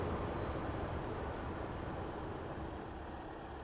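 A train on the Riviera Line in Train Sim World 6 gives off a constant low engine rumble and drone, steady and unbroken, close by with no voices.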